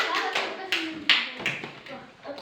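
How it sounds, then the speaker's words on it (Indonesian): Schoolchildren in a classroom give a classmate a round of scattered, uneven claps, mixed with young voices talking over them. "Kita kasih semangat untuk tepuk tangan untuk Arka"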